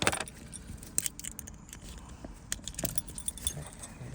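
A Mercedes-Benz car key jingles and clinks in several short bursts, close by, with small handling clicks and a faint background hum.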